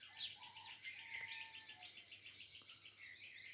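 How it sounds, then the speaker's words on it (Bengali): Morning birdsong around a rural house: several small birds chirp and tweet in quick repeated phrases, fairly faint and at a distance, against a quiet background with no talking. "পাখির ডাক কলকলি,"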